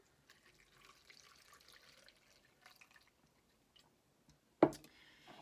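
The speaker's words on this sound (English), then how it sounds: "I'm gonna take some cabbage that I've chopped up and put it in a blender, and then I'm gonna add in some warm water." Warm water poured into a blender holding chopped cabbage: faint splashes and drips in a quiet room, then a brief louder gush near the end.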